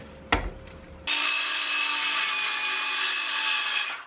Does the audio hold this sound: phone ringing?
no